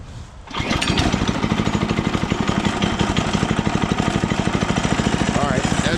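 A homebuilt go-kart's small engine catches after a brief quiet moment and settles into a loud, rapid, steady chugging close by.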